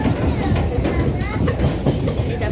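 Inside a moving train at night, a steady low rumble and rattle of the carriage carries on evenly throughout, with no distinct clacks or squeals standing out.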